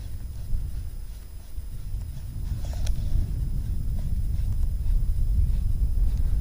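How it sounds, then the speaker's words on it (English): Hard wind buffets outdoors at a fishing spot, a steady low rumble roaring against the microphone for the whole stretch and growing slightly stronger toward the end. "that wind's changed directions more now, but it's blowing harder"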